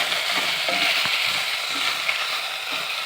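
Moringa (drumstick) leaves frying in a pan for a home-cooked lunch, giving a steady close hiss with faint scraping stirs and small pops throughout.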